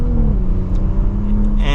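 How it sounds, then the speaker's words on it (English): A 2024 Audi S5 Sportback Prestige S-Line accelerates in comfort mode, a loud in-cabin engine hum steadily climbing in pitch with a rising whir. "if I need to get up to some speed, give it some gas"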